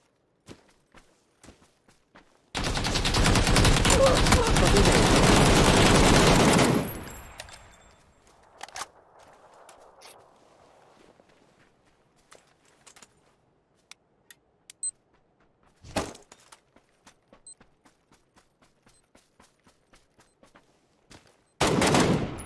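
Gunfire in the video game PUBG: a loud, dense burst of rapid automatic shots lasting several seconds, followed by scattered single shots, clicks and footsteps, then another short burst at the end.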